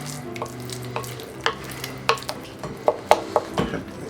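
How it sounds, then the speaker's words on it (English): A whisk or spoon stirs eggs and vanilla extract together for brownie batter, with repeated clinks and taps against a bowl in an irregular rhythm, close and alone without talk. "And we're going to mix this all together."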